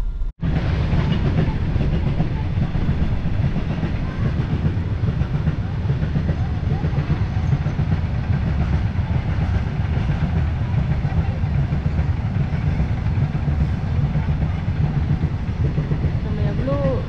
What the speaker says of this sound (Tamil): ஒரு டேங்கர் ட்ரெயின் போயிட்டுருக்கு, ஆயில் டேங்கர் ட்ரெயின்